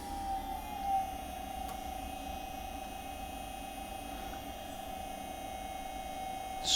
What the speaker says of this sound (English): Stop our motor.